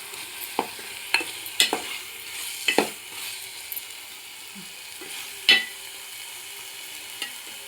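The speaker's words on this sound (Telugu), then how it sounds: "ఇప్పుడు ఉల్లిపాయ తొక్కు బాగా వేగిందండి." Onion fries in a pan while a spoon stirs it. Quiet sizzling runs underneath, and sharp scrapes and taps come at irregular intervals. No one speaks.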